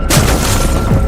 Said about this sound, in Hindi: ये किसी के कूदने की आवाज थी।